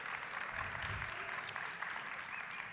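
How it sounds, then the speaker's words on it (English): Applause from a convention audience, a steady faint wash of clapping with a voice faintly audible beneath it. "Give them a round of applause, everybody."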